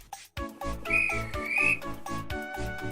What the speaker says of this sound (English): And so the guard blew his whistle